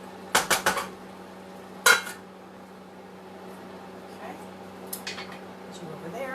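A few clinks and scrapes of a utensil against a pot as squash cooking in butter is stirred, in quick bursts followed by quieter kitchen background hum.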